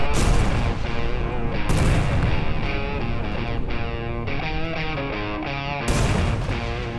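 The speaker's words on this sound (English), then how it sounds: "The fireworks just blew up Jimmy Carter." Repeated loud booms and crackling blasts of fireworks in GTA 5 go off in quick succession, dense and close, with sharp explosions recurring throughout.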